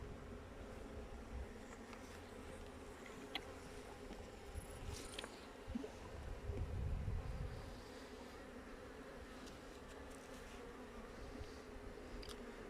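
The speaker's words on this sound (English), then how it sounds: "There's a lot of foraging bees on this for a small hive." Honeybees buzz around a small hive in a low, continuous drone close by, with a few bees passing louder near the middle against a quiet outdoor background.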